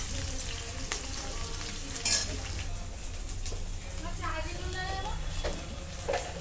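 Onions and rice fry in a pan for veg dum biryani, making a soft steady sizzle with occasional clinks and scrapes of a utensil against the pan, while people talk quietly in the background.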